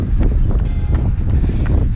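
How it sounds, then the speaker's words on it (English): Strong wind buffets the microphone outdoors while running into the wind, a loud, continuous rumble with gusting swells, roaring steadily throughout. "It's very windy though"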